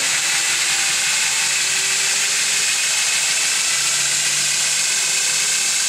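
A grinder motor runs steadily up to around 2,000 RPM, producing a loud continuous whine and hiss with faint tonal lines that slowly rise as it ramps up.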